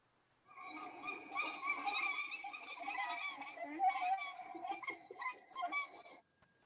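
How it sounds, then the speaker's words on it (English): Nene, the Hawaiian goose, giving a run of soft, nasal honking calls in quick succession, clear and fairly close over a quiet background. "this is what the nene sounds like"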